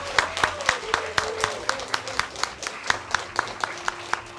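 Scattered clapping from a small crowd celebrating new citizens at a naturalization ceremony in a library, with steady rhythmic hand claps at moderate volume and a faint voice murmuring beneath.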